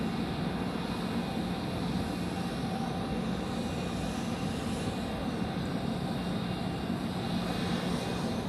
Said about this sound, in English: And it will taxi right in front of us on its way to, hopefully, runway